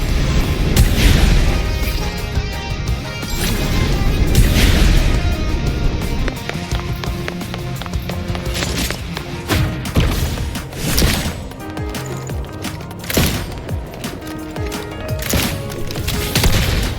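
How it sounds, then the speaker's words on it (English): In Wuthering Waves combat, rapid gunfire mixes with whooshing feather blade strikes. There are dense, repeated impacts and bursts over a loud layered background with music, mostly without speech. "I'll use the feather blade to weave through them while shooting."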